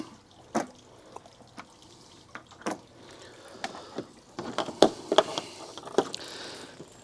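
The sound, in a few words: water draining out of a portable water heater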